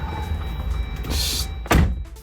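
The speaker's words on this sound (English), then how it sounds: "You gotta shut your door." A car door is shut once with a single solid thunk near the end, heard close inside the vehicle over a steady low cabin hum.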